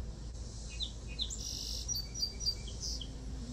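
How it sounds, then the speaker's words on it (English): Several birds chirp and tweet outdoors near a home deck in the morning, a string of short, bright calls over low steady background hum, with no talking. "Good morning, birds."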